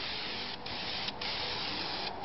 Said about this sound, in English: as we spray it up here.